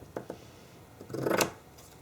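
Scissors cutting through cheesecloth, two quick light snips followed by a longer crisp slicing stroke through the fabric, close and fairly quiet.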